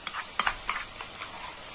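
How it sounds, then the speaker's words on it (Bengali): Onion paste added to already fried chopped onions in a pan for muri ghonto, giving a soft, quiet sizzle with a few light scraping clicks from stirring. "এবার দিয়ে দেবো বাটা পেঁয়াজ।"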